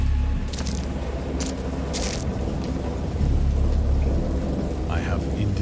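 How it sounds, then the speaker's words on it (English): A heavy storm with rain pouring steadily and close, low rumbling thunder rolling underneath, with a few sharper crackles breaking through. "I have indistinct recollections of a great storm sometime after I reached the boat."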